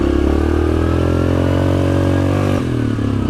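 A Grizzly 700 XTR quad ATV engine drones steadily and loudly close by at a constant pitch while riding a trail, dipping briefly near the end as the throttle eases before picking back up.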